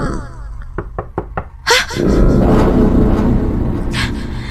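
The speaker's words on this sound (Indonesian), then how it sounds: "lagi dan lagi ada yang mengetuk pintu kamarku" Knocking on a bedroom door, four sharp evenly spaced raps close by, followed by a loud thump and then a steady low rumbling hiss.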